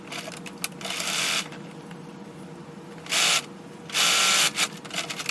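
A sewing machine stitching a French seam runs in short, loud bursts of close mechanical whirring separated by quiet pauses.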